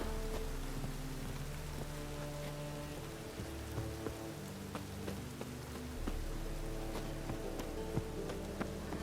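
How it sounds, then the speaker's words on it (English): Steady rain falls in The Witcher 3, a dense, even hiss of drops with scattered sharper taps, joined by low sustained musical tones and no talk. "Rain again. Damn mages."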